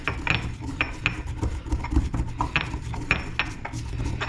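Cumin seeds and arbol chili being ground by hand make rhythmic gritty scraping and grinding strokes, close and fairly loud, with small clinks between repeated passes.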